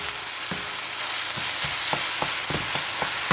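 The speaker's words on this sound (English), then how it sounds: "we will cook this meat or this beef until it gets brown" Ground beef fries over medium-high heat with a steady, dense sizzle, broken by several short stirring scrapes toward the end; no one speaks.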